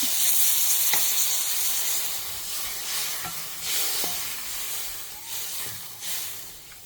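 Tamarind water with rock salt starting to boil in a pot, a steady loud hiss of simmering with occasional soft clinks and stirring sounds, no voices.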